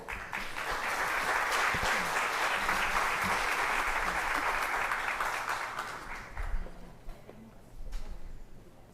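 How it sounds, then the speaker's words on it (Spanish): Loud, sustained applause from a crowd fills the space, thinning out toward the end with a few scattered claps. "ustedes lo reciben con un fuerte aplauso."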